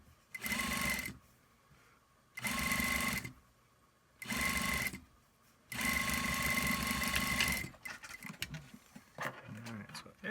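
A sewing machine stitches a lock-stitch seam on a shirt made from a 6-point Hudson Bay wool blanket, running in four steady bursts separated by short pauses, the last burst longest, then light handling noise.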